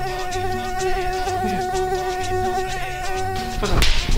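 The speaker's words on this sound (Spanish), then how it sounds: "Esa es una mosca que molesta." A fly buzzes steadily close by during a kitchen cooking session with a dish of potato ajiaco, a continuous whining drone over background hum, with a louder rush near the end.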